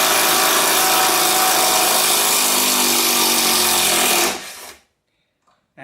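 A cordless Makita 10.8V CXT impact driver backs a screw out with loud, close, continuous rapid hammering for about four seconds, then stops abruptly into near silence.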